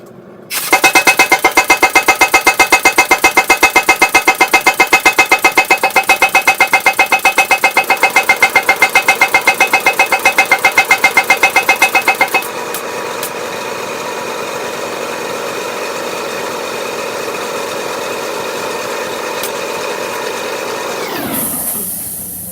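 A power hammer thinning and straightening a hand-forged chef knife pounds in a rapid, steady mechanical rhythm for about twelve seconds, then the machine drops to a lighter running hum before winding down.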